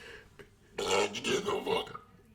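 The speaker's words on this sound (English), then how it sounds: "That was a sexy burp." A man lets out a short, throaty burp right up close, a loud rough belch lasting about a second after a quiet start.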